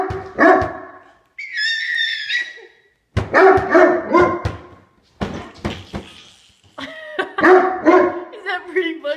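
A Great Dane barks and yips in short bursts close by at home, with a baby and adults talking and laughing throughout and high squeals in places.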